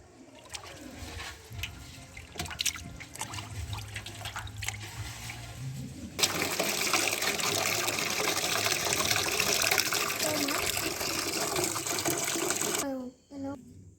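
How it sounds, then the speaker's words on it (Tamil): A kitchen tap gushes water while fish are rinsed for fish curry, a loud, steady splashing rush that starts suddenly midway and runs for several seconds before stopping, after quieter handling sounds and some talk. "மறுக்கா ஒரு நல்ல தண்ணி பிடிச்சி அதுலேயே மீனை போட்டு அலசிக்கோங்க."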